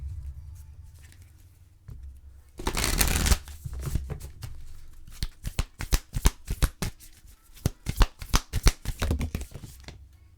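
Oracle cards being shuffled by hand to draw an advice card, with a brief riffle burst followed by a rapid series of close, crisp slapping and flicking card sounds in uneven bursts.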